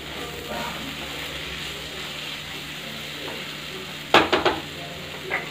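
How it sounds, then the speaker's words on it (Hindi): Achari aloo sabzi, a spiced potato dish, fries softly in a pan under a steady low sizzle, then a spoon stirs it with a quick cluster of sharp scraping clinks near the end. "अब चलते हैं इसको एक बार चला लेते हैं।"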